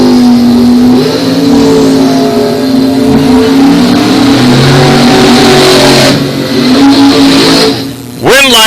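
A Pontiac and a dragster launch side by side at a bracket drag race, a loud sustained engine roar that holds steady and then sweeps sharply upward near the end.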